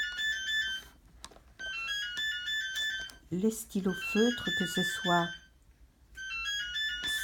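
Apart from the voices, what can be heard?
mobile phone ringtone ringing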